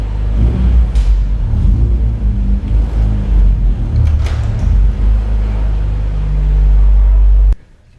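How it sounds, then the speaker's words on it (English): A Honda Civic EG6 engine idles and rumbles loudly up close, with light revving as the car creeps onto corner weight scales, then cuts off abruptly near the end. "So now I'm going to move the car onto the scales"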